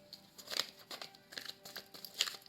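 Tarot cards being shuffled, a soft, quick papery riffling and crinkling in brief bursts, faint and close with no talking.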